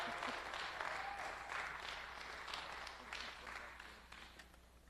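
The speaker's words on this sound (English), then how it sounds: "Can we just lift up an applause for Winkie this morning?" Warm applause from a morning gathering audience welcoming a speaker to the stage, moderately loud and sustained, fading gradually toward the end, with faint murmurs beneath the clapping.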